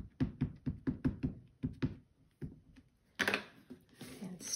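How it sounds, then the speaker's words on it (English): A rubber stamp is pressed onto paper inside a stamp positioner during card making, giving a run of quick, sharp thumps and taps close by, followed by a brief rustle of handling. "and stamp it"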